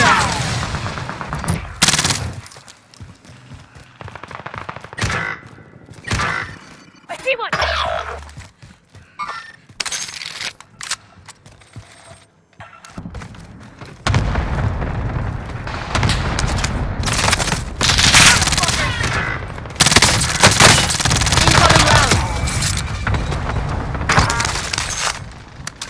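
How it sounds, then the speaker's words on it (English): Gunfire in the video game Warzone Rebirth Resurgence: bursts of rapid automatic shots and cracks, dense and loud, intensifying into sustained near firing in the second half of the clip. "Taking fire here."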